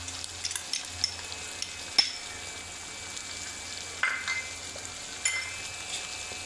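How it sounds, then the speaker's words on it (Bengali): Ground garlic, cumin and coriander pastes with salt fry in a pan for chili chicken, a soft steady sizzle punctuated by a few distinct spoon clicks and scrapes as they are stirred. "এই মশলাগুলো ভালো করে আমরা নেড়ে চেড়ে নেবো। এই মুহূর্তে আমরা কিন্তু হলুদ বাটাটা দেবো না, এগুলো ভেজে নেব।"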